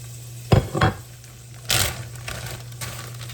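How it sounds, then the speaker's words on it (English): Grapeseed oil heats in a skillet for frying fish, giving a faint sizzle with a few louder stirring and utensil knocks and brief hissy bursts against a steady low hum. "I also have another skillet heating with grapeseed oil for my fish."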